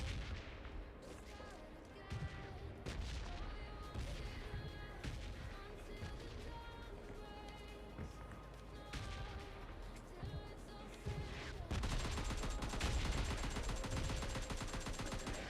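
Dense, continuous gunfire from PUBG Mobile Lite, with rapid automatic bursts and heavy booming shots layered throughout, loud and busy, intensifying near the end.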